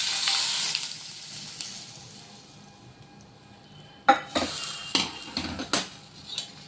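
Hot tempering of cumin and mustard seeds poured into chutney: a fading sizzle at first, then a run of sharp metallic clinks and scrapes as it gets mixed in with a spoon.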